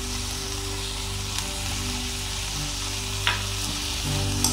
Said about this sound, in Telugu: మళ్ళీ కొద్దిగా కలుపుదాం, మంచిగా మిక్స్ అయ్యాలి.